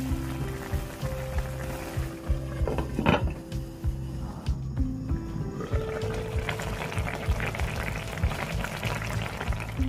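Braised fish cake and tofu simmering covered on medium heat with a cup of water and seasoning sauce, giving a steady low bubbling and sizzling hiss throughout, with a brief louder clatter near the start.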